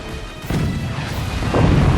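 Cannon fire in the physics-based fort-battle game Forts: heavy booming blasts and crashing impacts pile up over two seconds, loud and close, with no voices.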